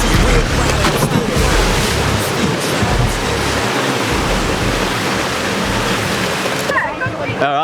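A waterfall along the Old Telegraph Track in Cape York roars loud and close as a continuous broadband rush, with people talking over it and a brief warbling sound near the end.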